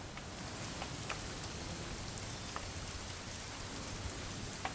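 Soft, steady rainfall from the video game What Remains of Edith Finch, a quiet even patter with scattered drop ticks and no talking.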